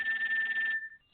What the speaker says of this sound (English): that's not my alarm. That's the phone.